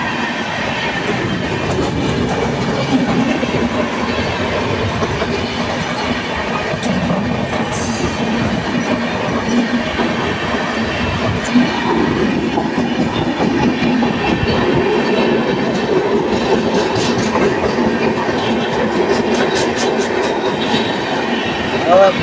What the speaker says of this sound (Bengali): ভদ্রক ছেড়ে হলো আর এবার আমাদের ট্রেন ঢুকবে ভদ্রকে।